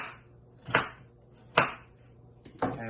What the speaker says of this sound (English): I'm going to cut down the seams of the onion